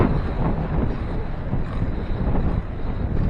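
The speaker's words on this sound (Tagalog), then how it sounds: "Grabe kasing hangin eh" Strong wind buffets the microphone outdoors near a street during a bike outing, producing a loud continuous low rumble and roar with no clear speech.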